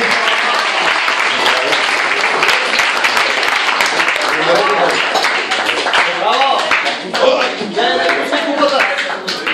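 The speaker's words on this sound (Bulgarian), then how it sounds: "Аплодисменти" Audience applause for a tennis club's Masters champion at a season-closing event, dense steady clapping from many hands sustained for several seconds with a voice speaking over it.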